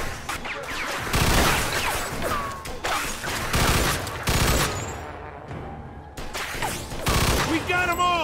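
Loud, rapid bursts of machine gun fire in the video game Mafia II, sustained rattling volleys broken by short pauses, with sharp impacts and crashes mixed in and brief voices shouting between the bursts.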